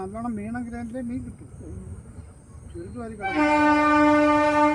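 Voices talk briefly, then a train's horn blares loud and sustained, drowning everything out to the end.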